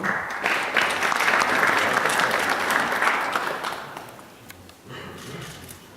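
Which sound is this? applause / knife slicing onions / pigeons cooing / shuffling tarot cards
applause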